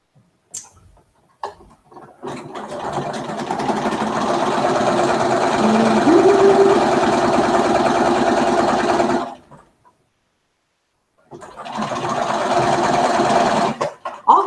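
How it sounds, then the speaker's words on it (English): A sewing machine stitching Dear Jane quilt blocks whirs steadily with a fast ticking rhythm in two close, sustained runs separated by a short pause. "So let's get these sewn on."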